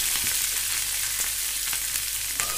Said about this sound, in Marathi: त्यानंतर कांदा घालायचा आणि छान मऊसर गुलाबी कलर येईपर्यंत परतून घ्यायचा